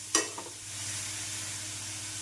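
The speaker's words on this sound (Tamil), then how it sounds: "பொடியாக நறுக்கிய வெங்காயம் பச்சை மிளகாய் சேர்த்துவிடலாம். வெங்காயம் வதங்கும் பொழுதே தொக்கிற்கு தேவையான கல்லுப்பை சேர்த்துவிடலாம்." Chopped onion and green chili drop into hot oil in a pan with a sharp burst of sizzling, followed by a short stir and a steady frying hiss that carries on alone.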